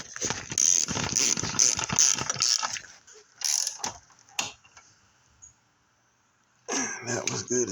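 A ratchet wrench clicks in quick bursts as it tightens a battery bolt on a Chevrolet Equinox, then goes quiet, with a few more isolated clicks and some nearby talk.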